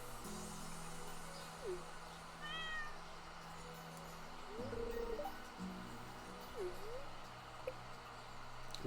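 A cat meows in the farming game Stardew Valley, several short, faint mews spaced a couple of seconds apart over a quiet, steady game background hum.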